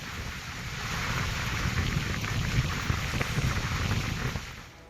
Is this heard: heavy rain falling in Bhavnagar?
yes